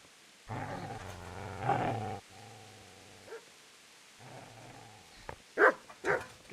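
A dog growls low and continuously, then lets out a few sharp, loud barks near the end, close by and with no one speaking over it.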